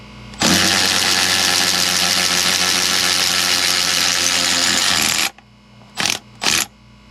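An electric power tool spins off the impeller on a twin Volvo TAMD 63P diesel in a 2000 Pursuit 3400 Fisherman boat. It makes a loud, steady, close whirring run of about five seconds, followed by two short bursts.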